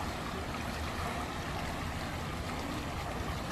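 Water flowing steadily along Cheonggyecheon stream, a continuous broadband rush without breaks, moderately loud and close, with no voices.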